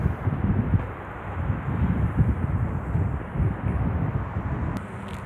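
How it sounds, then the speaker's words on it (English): Low, gusty rumble of wind buffeting the microphone on a very windy day, steady and close throughout with fluttering bursts. "it's a really windy day"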